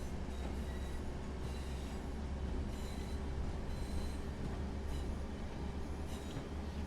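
A train in Train Sim World 4 on the Blackpool branch line rolls steadily over the rails, with a continuous low rumble, faint rhythmic wheel clicks and occasional light squeals, heard close and without talk.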